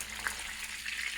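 Chicken meat stir-frying in a pan in the early stage of cooking, with salt going in, giving a steady, close crackling sizzle that holds evenly throughout.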